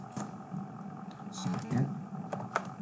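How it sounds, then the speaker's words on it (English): Uneven bursts of typing on a computer keyboard during a coding session, soft clicks and clatters running beneath a man's ongoing speech. "I'm sorry for my bad typing."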